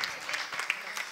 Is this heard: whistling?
no